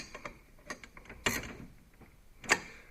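A 10mm wrench works loose the steering linkage on a Sea Doo Spark personal watercraft, with faint, close metallic ratcheting clicks and a couple of sharper clanks.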